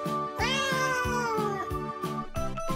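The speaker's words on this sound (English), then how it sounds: "One cat." A cartoon cat gives a single drawn-out meow layered over a bouncy, rhythmic children's backing tune, clear and close with no talking.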